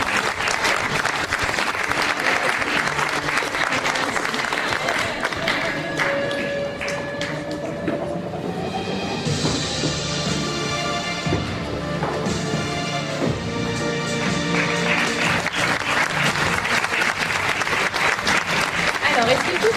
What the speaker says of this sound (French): Elles se font désirer, vous pouvez les applaudir encore un petit peu.